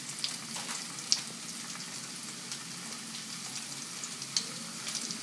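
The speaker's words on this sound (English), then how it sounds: "that's what you want to hear, is that sizzle" Vegetables sizzle in olive oil in a saute pan, a steady soft crackling hiss close by with scattered sharp pops and spits, heard alone with no talking.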